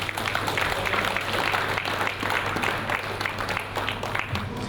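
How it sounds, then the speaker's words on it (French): A room full of people applauds a restaurateur known for her pôchouse, the clapping thick, continuous and fairly loud over a low steady hum, with no voices on top. "Monique Vernier, je pense qu'on peut l'applaudir"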